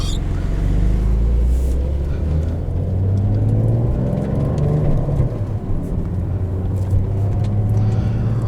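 A 2020 Porsche 911 (992) Carrera 4S with a manual gearbox, set to Sport Plus, drives on the road; a steady, loud low engine drone with road rumble continues throughout, with no strong revving.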